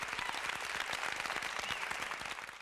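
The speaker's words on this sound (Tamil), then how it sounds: "எல்லாரோட கரகோஷத்தோட" An audience at a Tamil film event claps together in a dense, even round of applause, sustained throughout and tapering slightly at the end.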